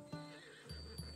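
A horse whinnies in the Assassin's Creed Odyssey video game, a Skyros-breed mount offered at a stable, with two loud, close neighs and a softer third call, together with soft hoof clops.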